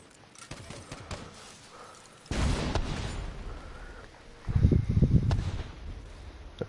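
Multiple explosions burst in The Division 2: a sudden loud blast followed by a rumbling tail, then a second cluster of rapid, crackling detonations, close and punchy.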